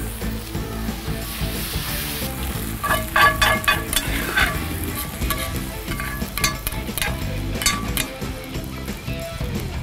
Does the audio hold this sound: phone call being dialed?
no